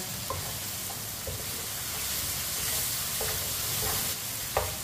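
Spices frying in oil for an aloo gosht curry, a steady hiss of sizzling with occasional scrapes and clinks of a spoon stirring the pot.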